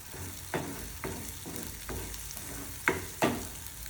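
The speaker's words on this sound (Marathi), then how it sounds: "मसाल्याला चांगलं परतून घेतल्यानंतर लाल तिखट थोडं मीठ थोडी हळद सर्व्याला परतून घेऊ" Masala with red chilli powder, salt and turmeric sautéing in a pan for a green-onion mutton dish: a steady low sizzle broken by regular spoon scrapes about every half second, two sharper near the end.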